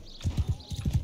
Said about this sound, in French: On va y aller à cheval.